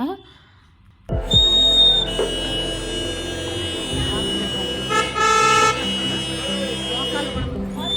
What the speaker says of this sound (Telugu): వాటర్ వేసినప్పుడు అయితే బర్డ్స్ అరిచినట్లు అలా ఉంటుంది